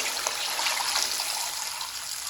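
About 1.5 litres of water are poured into a pot of chicken pulao (yakhni pulao) on the stove. The splash is steady and close, with a bright gurgling rush and no voice over it.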